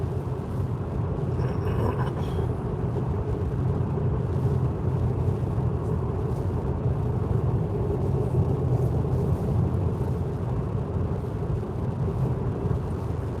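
A Deepal S05 electric car driving on the road, heard from inside as a steady, unbroken rumble of tyre and wind noise that holds level throughout.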